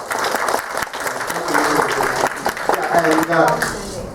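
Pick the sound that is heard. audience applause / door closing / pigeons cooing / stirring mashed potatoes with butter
audience applause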